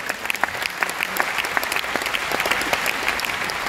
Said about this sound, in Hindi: मेन गेस्ट हैं नितेश सर और रेखा मैम, रंजीत सर के लिए एक जबरदस्त ताली चाहिए